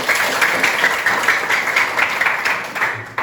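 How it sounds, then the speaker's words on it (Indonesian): A classroom full of people claps steadily, dense applause continuing throughout without a break. "Tepuk tangan."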